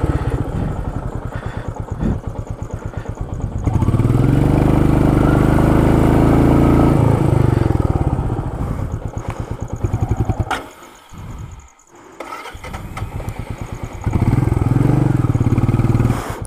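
A Royal Enfield Meteor 350 stuck in rough ground revs hard in repeated surges, its thumping single-cylinder note loud and close, dipping briefly before climbing again.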